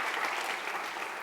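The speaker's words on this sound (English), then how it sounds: "Can we give her a round of applause and just thank her for making this happen?" Dense, steady applause from an audience at a Black Lives Matter event at De Anza College, a short, even burst of many hands clapping together with no voices over it.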